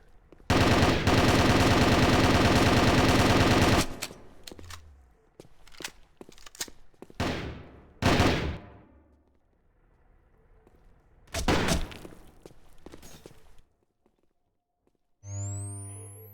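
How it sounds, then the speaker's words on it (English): Heavy automatic gunfire in a video game team firefight: a long, loud sustained burst up front, then scattered shots and shorter volleys trading back and forth, with a final sharp burst near the end. "Very big firefight as the teams trade."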